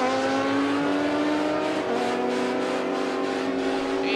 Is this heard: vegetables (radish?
no